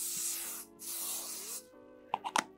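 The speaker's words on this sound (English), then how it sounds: "I'm just gonna spray it from like far" Two long hissing bursts of aerosol hairspray, close by, followed by a few soft clicks and taps.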